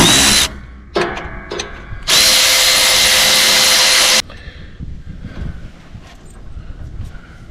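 A power tool zips out 3/8 inch bolts on an Eaton 771 transaxle on a Grasshopper 721 mower, giving two short whirring bursts and then a longer steady run, loud and close, followed by quieter clinking and shuffling.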